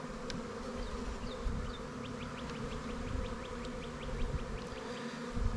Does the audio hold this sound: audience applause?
no